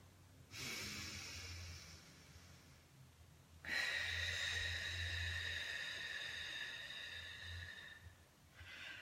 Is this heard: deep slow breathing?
yes